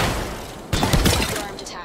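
Gunfire in the battle royale video game Off the Grid on PS5, a sudden loud burst of rapid shots after a quieter lead-in, dense and close, with the impacts tailing off near the end.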